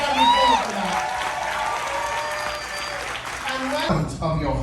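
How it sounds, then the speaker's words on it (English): Steady applause from an audience on a Carnival Paradise cruise ship fills the room for several seconds, with a voice speaking over the clapping at the start and end. "give us a nice round of applause for that"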